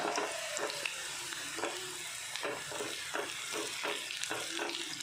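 Food fries in very hot oil, a quiet, steady crackling sizzle with frequent small pops and spatters, heard alone without speech.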